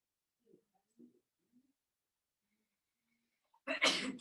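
A single loud, close sneeze bursts out near the end, after a few faint, scattered soft sounds.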